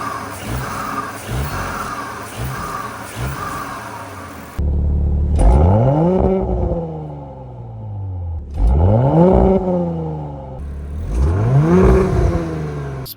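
An Audi S4 B9.5 driven on the road, its engine and intake droning steadily, then surging through repeated hard accelerations with rising revs and a throaty growl, loud and close with a pause between pulls.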